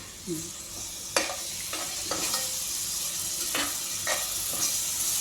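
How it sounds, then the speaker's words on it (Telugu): Leftover chicken with garlic paste fries in a pan on a high flame, a steady sizzle broken by several scraping stirs of a spoon. "కొంచెం హై ఫ్లేమ్లో పెట్టి స్టవ్ వేపాలి"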